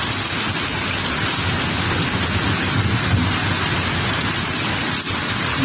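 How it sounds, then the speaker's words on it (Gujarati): Heavy downpour with thunder, a dense, steady roar of rain that stays loud and unbroken throughout, with low rumbling beneath it and no voices. "જોઈ લ્યો ફૂલ વરસાદ"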